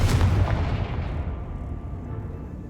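The Confringo fire spell in Hogwarts Legacy goes off as a deep, booming blast that hits hard at once, then decays into a long rumbling roar, loud and alone.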